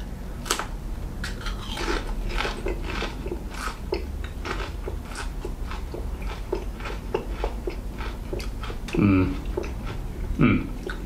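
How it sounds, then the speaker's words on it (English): Crisps crunched together with a fresh chili pepper, close bites and chewing repeating steadily throughout, with brief spoken remarks mixed in. "Couple of crisps with a chili."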